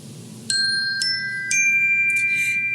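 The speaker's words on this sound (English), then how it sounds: "If you hear this ding dong means the beginning." A ding-dong chime cue rings out as three bright, clear tones, each struck about half a second apart and left to sustain, with a softer jingle near the end, over a low steady background hum.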